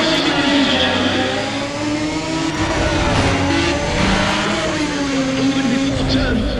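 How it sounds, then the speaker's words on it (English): Several race car engines in Need for Speed ProStreet rev loudly at high pitch at once, a dense droning whine that rises and falls the whole time. "Listen to those engines."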